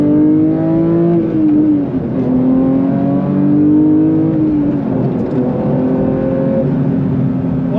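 A 2022 Porsche 911 GT3 Touring driving on winding back roads, a loud close engine note heard from inside with shifting revs, rising and falling pitch through gears and turns, continuous for several seconds.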